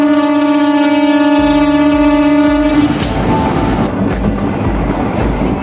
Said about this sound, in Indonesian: kereta api Pandanwangi yang saya tumpangi ini akan tiba di stasiun perjalanan akhir